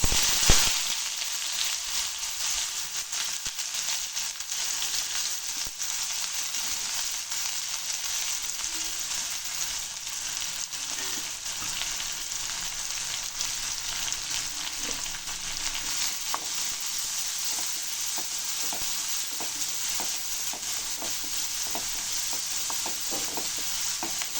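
Onion frying in hot oil with cumin and urad dal, a steady close sizzle and crackle that holds for the whole stretch with occasional stirring scrapes and no talking.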